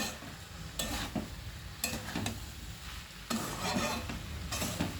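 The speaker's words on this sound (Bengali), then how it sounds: "ভালো করে মশলার সঙ্গে পটল আলু ভালো করে আমি মিশিয়ে নিচ্ছি" Pointed gourd and potato pieces coated in spices are stirred in a pan, with repeated scraping strokes over a soft, steady sizzle.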